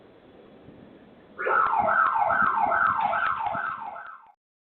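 A wailing police siren suddenly rises loud and close, cycling through repeated up-and-down sweeps for a few seconds over faint background noise, then cuts off.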